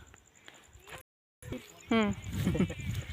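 A goat bleats in a short wavering cry, close by, amid outdoor background noise and people talking on a farm in summer.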